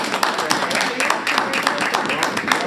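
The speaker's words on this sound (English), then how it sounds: "Wasn't expecting an applause." Applause at a school district meeting after a new special education director is introduced, a brief, dense patter of many hands clapping in a room, with some voices mixed in.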